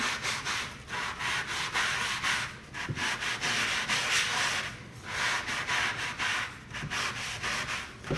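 Steady rhythmic scrubbing of a sponge rubbed back and forth over wood being aged with vinegar, coffee and charcoal, a close, continuous rasping swish with regular strokes.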